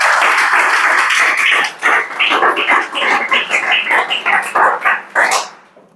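Applause in a Chhattisgarh police recruitment coaching class: a few seconds of close, dense clapping that breaks into uneven bursts and scattered claps before stopping abruptly.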